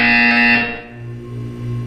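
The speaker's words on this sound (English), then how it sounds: "You will hear a buzzer." A buzzer in the video game Portal 2 sounds as a single loud, harmonic electronic tone lasting under a second, then cuts off into a softer low hum, with no voices.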